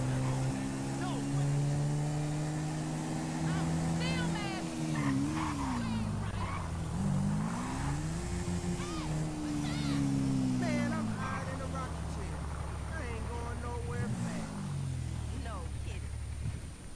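Vehicle engine revving and accelerating in the video game GTA V, rising and falling tones sweeping up and down repeatedly over steady game noise, with a person talking over it.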